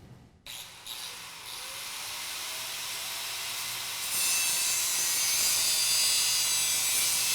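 A power tool trimming a part on a 2017 Chevrolet Silverado 2500 HD hub assembly during a lift kit install, a steady high whining cut that starts after a brief knock and grows louder partway through.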